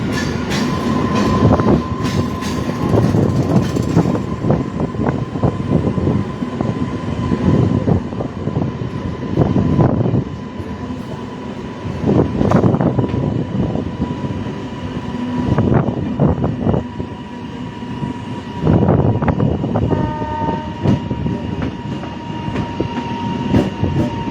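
A train on the Amghata–Krishnanagar route rumbles along the rails with rhythmic clacking and a steady mechanical hum, loud and close, with bursts of heavier rattling throughout.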